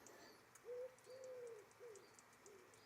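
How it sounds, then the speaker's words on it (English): Outdoor birdsong around an open-air kitchen in nature, with a few soft pigeon coos drifting in from a distance over faint high chirps and quiet ambience. "Hopefully you can hear the birds in that as well."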